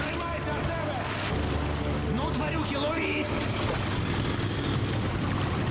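A boat motor drones steadily in the video game Metro Last Light Redux, with water and ambient game sounds, while someone talks over it throughout.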